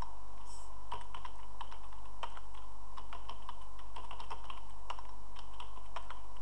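Someone types on a computer keyboard with a steady run of crisp, close key clicks and occasional firmer presses, over a low constant hum.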